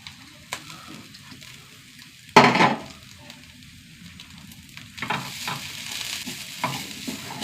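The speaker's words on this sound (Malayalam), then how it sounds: "എല്ലാം കൂടി ചെറിയ തീയിലിട്ടിട്ട് വറുത്തെടുക്കണം കേട്ടോ." Grated coconut, shallots, ginger and garlic fry gently over a low flame, with a soft sizzle, a sharp burst of crackle early on and repeated scraping stirs near the pan.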